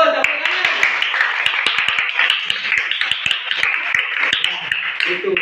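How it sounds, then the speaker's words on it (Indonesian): Students in a classroom clapping together, a lively patter of many hands with sharp taps, steady and close for several seconds, with faint voices mixed in. "Bagus, tepuk tangan."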